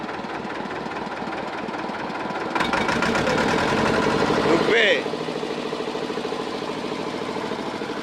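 Engine of a small trawler boat running steadily on the Pasur river in the Sundarbans, a continuous droning hum that grows louder midway then settles, with people talking over it.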